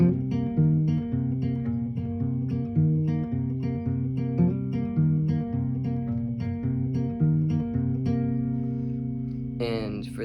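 Acoustic guitar plays the break of a song, a repeating fingerpicked pattern on the low strings with ringing notes, close and clear, ending with a brief strum.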